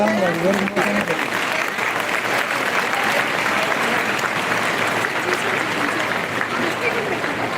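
At a graduation celebration, the crowd gives graduates a long, loud round of applause, thick continuous clapping, with a speaking voice briefly audible over it at the start.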